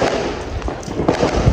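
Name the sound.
fireworks booming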